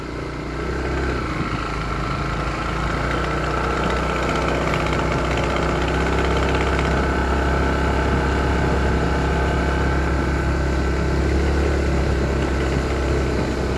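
Small motorbike engine running steadily throughout on a mountain road outdoors, a continuous close idle-like drone with constant vibration and no talk over it.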